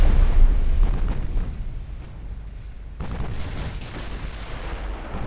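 Heavy naval guns from warship turrets fire broadside in the Ultimate Admiral Dreadnoughts naval game, heard as deep, continuous rumbling booms that swell at the start, ease off, then surge again midway, with no talking.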